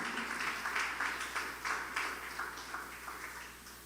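Faint rhythmic clapping from a congregation praising Christ during a church service, about two claps per second in an even beat, heard quietly and at a distance.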